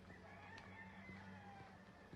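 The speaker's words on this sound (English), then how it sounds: "That's a rooster." A faint, distant rooster crows once over a low, steady background hum.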